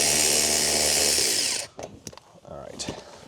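A 12 mm socket wrench loosening a bolt while removing the back seat of a 2009-2014 Hyundai Genesis sedan gives a loud, steady mechanical whir for about a second and a half, then cuts to quieter clicks and handling noises.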